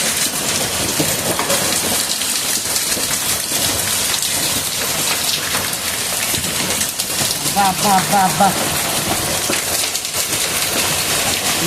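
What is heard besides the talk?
heavy rain with hail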